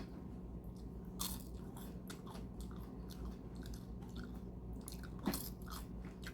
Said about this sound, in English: I'm not too fond of this particular coleslaw. It's just too crunchy